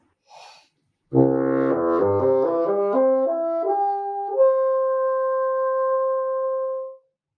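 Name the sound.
bassoon playing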